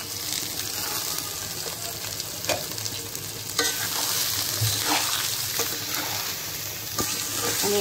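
Rice and lentils being fried with onion in a wok, with a continuous sizzle and repeated scraping and stirring of the spatula against the pan, close and fairly loud without talk.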